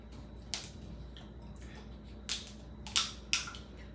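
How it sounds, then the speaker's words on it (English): Ice cubes from a refrigerator ice maker clatter down in a few brief, crisp bursts, one early and three more close together near the end, fairly faint in a quiet room. "My ice maker, y'all. Forgive the noise."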